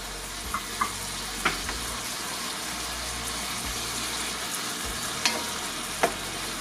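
Herbs are stirred into lasagna sauce sizzling steadily in a pan, the continuous fry broken by a few light clicks of the spoon against the pan.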